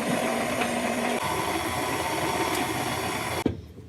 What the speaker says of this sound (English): We're gonna set the paddle down, get it on low, and add our yeast.